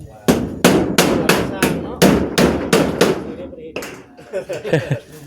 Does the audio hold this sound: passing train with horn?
no